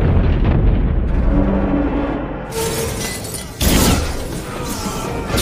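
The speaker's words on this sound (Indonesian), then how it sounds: "Sedangkan torpedo yang mereka luncurkan ternyata berhasil mengenai sasaran." A torpedo explosion from the submarine war film Torpedo 23, heard as a loud, sustained roaring blast with crackling debris, surging again near the end, with no talk.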